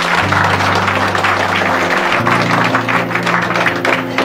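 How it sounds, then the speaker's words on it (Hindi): Classroom students clapping together in a group, a loud continuous patter of hands lasting several seconds, with a steady electronic hum running underneath. "चलिए ताली हो जाए।"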